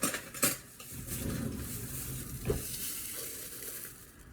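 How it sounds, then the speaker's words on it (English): A spoon scoops cornstarch while metal utensils clink and scrape against a container, sounding close and moderately loud. The clatter is irregular, with a couple of sharper knocks over a steady hiss in the background, and no talking. "Let me get the spoon out."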